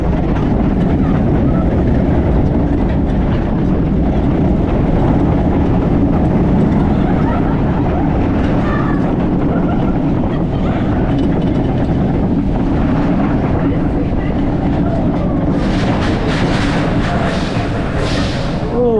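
A Swiss Bob bobsled roller coaster at Europa Park rumbles and rattles loudly and continuously as the train runs through the track, with shaky wheel noise throughout and rushing wind hiss late in the ride.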